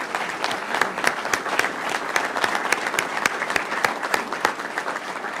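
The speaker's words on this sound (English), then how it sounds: "a round of applause." A crowd applauds Florida law enforcement officers at a press conference in Winter Haven, a steady, dense patter of many hands clapping for several seconds with no talk.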